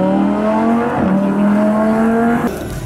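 A gold BMW M4 hot lapping on a race track, its engine droning loud and steady with rising and falling pitch as it shifts, then a sharp drop near the end.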